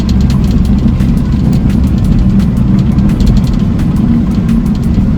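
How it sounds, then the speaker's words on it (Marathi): A car rolls along a winding, narrow two-lane forest road in Kerala at night, its steady low engine drone and road rumble loud and continuous throughout with no voices. "जरा गाडी चालवतो"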